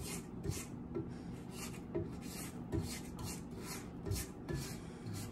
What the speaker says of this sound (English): Then I'm gonna scrape down the side of the bowl.